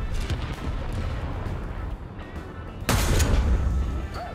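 A tank cannon firing Shot Mark I solid shot in a war video game booms once, loud and close, with a sharp blast and a rumbling tail over steady engine and battlefield noise.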